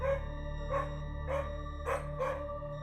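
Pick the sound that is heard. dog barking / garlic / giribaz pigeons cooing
dog barking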